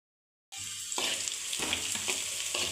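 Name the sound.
bitter gourd (kakarakaya) slices frying in oil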